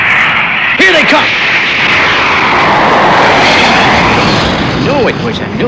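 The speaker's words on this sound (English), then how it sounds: "What a plane!" An airplane of a new design roars low overhead in a desert, a loud, continuous jet-like rush building and sweeping past for several seconds.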